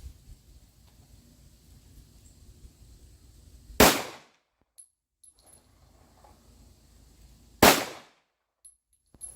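A Girsan 1911C .45 ACP pistol fires aluminum-cased Blazer rounds on an outdoor range, two loud sharp shots spaced several seconds apart, each with a short ringing tail over quiet background.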